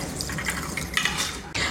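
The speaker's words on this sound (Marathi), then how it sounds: "आता यातल्या पाण्यासकट हा तांदूळ मिक्सरच्या भांड्यामध्ये काढून घ्यायचा" Soaked rice tipped into a mixer jar together with its soaking water, giving a close, continuous splashing pour with small clinks, with no talking.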